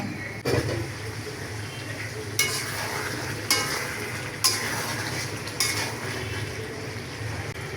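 A spoon stirs a pot of curry with lentil fritters over a soft, steady simmering sizzle, with about five distinct scraping clanks spaced a second or so apart.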